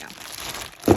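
A plastic bag crinkles during unboxing, a quiet rustle that ends in one sharp, close crinkling burst.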